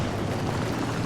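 A World of Tanks artillery shell explodes in a dense, roaring blast that fills the whole moment with a thick, rumbling wash of noise.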